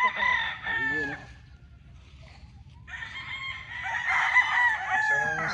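A gamefowl stag rooster crows nearby, with one crow at the start and a longer, louder crow in the second half, and some clucking from the farm around it.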